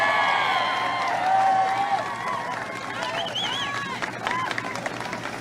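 A big crowd cheers and calls out at an outdoor Defend the Majority political rally in Augusta, a steady mid-distance roar of voices and whoops that holds throughout with brief rises in excitement.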